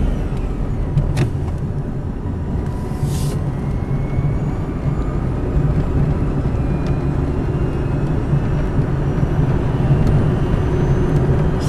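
An Ampmobiles electric vehicle drives along with a steady low rumble of motor and road noise, loud and continuous, and a faint whine above it.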